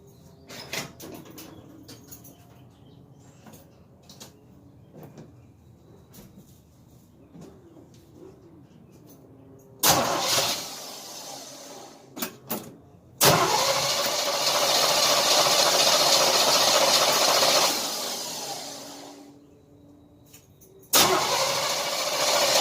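A 1978 Chevy C10 with a 350 V8 is cranked and sputters, bursts of engine roar cutting in and out between quieter stretches with faint birds, the longest run lasting several seconds before dying, close and loud.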